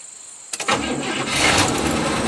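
A 1970 Cadillac big-block engine cranks briefly and catches, then settles into a loud, steady near rumble that holds to the end.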